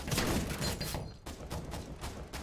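Rapid bursts of gunfire from a Counter-Strike: Global Offensive (CSGO) match, loud and close with dense repeated shots, a brief pause, then more volleys.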